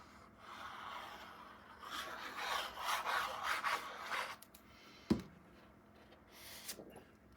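Paper being trimmed for a 9 x 9 scrapbook mini album page, a few seconds of close dry rubbing and rasping cuts followed by a sharp tap and quiet handling.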